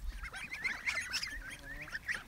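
Geese honking close by at a person's feet during feeding, several quick nasal honks overlapping within a couple of seconds, with no talking.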